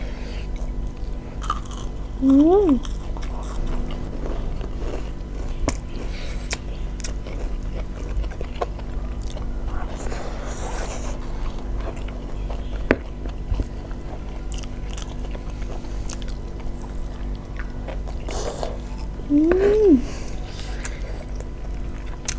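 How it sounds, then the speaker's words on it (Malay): Steady crunchy chewing of crispy battered fried enoki mushrooms close to the ear, with soft mouth noises throughout and a little background hum. "Makan dengan enoki, rangup-rangup."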